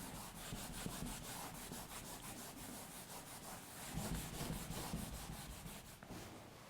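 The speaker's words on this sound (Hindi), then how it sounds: "थोड़ा रब कर लेते हैं इसको।" Steady rubbing and scrubbing as writing is erased from a classroom board during a maths lesson, a continuous dry friction texture with faint repeated strokes throughout, no talk.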